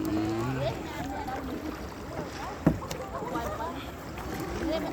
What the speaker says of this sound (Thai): พายเรือ